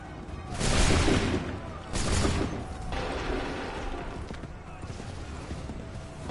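Soldiers in Assassin's Creed 3 open fire in a musket volley: two loud, broad booming bursts crash out close together, then fade into a rumbling, noisy tail.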